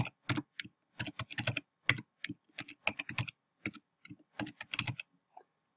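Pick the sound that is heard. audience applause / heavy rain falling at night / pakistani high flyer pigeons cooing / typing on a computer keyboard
typing on a computer keyboard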